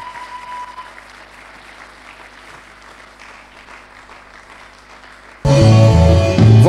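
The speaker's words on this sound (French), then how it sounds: "Veuillez vous lever en acclamant le Seigneur." A church congregation breaks into loud, sustained applause and acclamation after a quiet stretch of room tone, the clapping and cheering filling the hall through the end.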